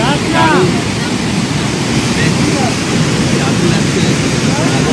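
Rain falls in the hills around Rishop near Kalimpong as a steady, loud hiss, with a person speaking over the downpour.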